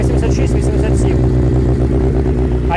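A Suzuki Hayabusa motorcycle with straight-pipe exhaust idles and revs loudly nearby, a steady rough low rumble throughout, with people talking over it.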